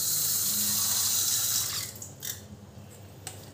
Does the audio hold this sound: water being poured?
yes